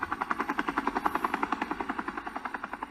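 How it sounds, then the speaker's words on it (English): Helicopter rotor blades thump in a fast, steady rhythm, loud and close, continuing throughout, as the helicopter arrives. "President, look, the chopper is here."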